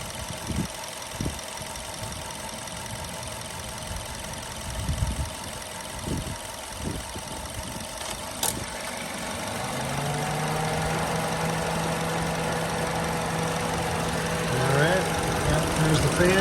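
A 2012 Mazda2 engine idles steadily while its air conditioning cycles on, with irregular thumps and faint talk early on before a steady hum and cooling fans swell in the second half.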